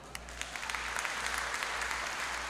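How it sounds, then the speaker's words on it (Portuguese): A church congregation at PIB Arenápolis applauds, a soft, dense patter of many hands clapping steadily. A low hum runs underneath. "Quantos podem aplaudir o Senhor?"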